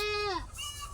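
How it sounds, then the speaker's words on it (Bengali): A single goat gives one close, wavering bleat that lasts under half a second, then quiet background noise follows. "ছাগলটা ক্লান্ত হয়ে পড়েছে।"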